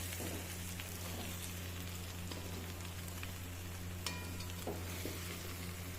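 Masala for a drumstick (saijan) bhaji being stirred and fried in a pan, a quiet continuous sizzle with a low hum and scattered soft scraping and clinks of the spoon.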